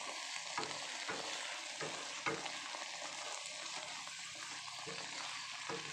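Shrimp and carrots stir-frying in a pan sizzle steadily and fairly quietly, with rhythmic scrapes and taps of a spatula recurring every second or so.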